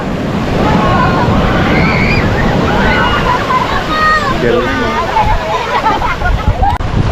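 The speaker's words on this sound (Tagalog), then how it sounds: "Lakas ng alon." Strong ocean surf at Dingalan, Aurora crashes and sloshes continuously with strong wind buffeting the microphone, while people shout over the roar.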